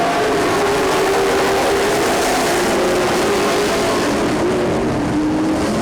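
Race cars roar around a dirt track at a busy event, several engines droning together at a steady high pitch with a slowly sliding whine, loud and continuous throughout.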